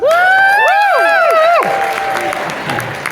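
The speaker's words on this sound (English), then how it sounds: "No need for applause." A stand-up comedy audience bursts into applause and cheering while a voice's strained, pitch-sliding exclamations rise over it, then the clapping carries on more steadily.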